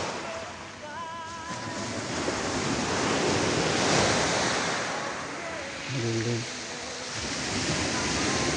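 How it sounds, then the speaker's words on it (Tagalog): Steady roar of surf with waves washing through, a voice briefly speaking over the rushing water. "Lakas ng alon."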